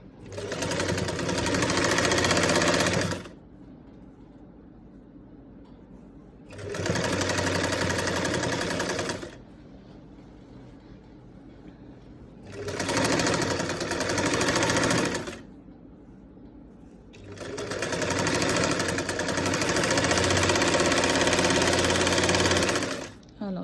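Sewing machine stitching a garment neckline, four loud whirring bursts of steady stitching separated by quiet pauses, the last run the longest, with soft talk in the gaps.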